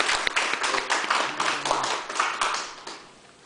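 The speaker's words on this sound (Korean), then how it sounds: "박수 한번 합시다" A church congregation claps together after the pastor's call, a dense patter of many hands that swells and fades over a few seconds.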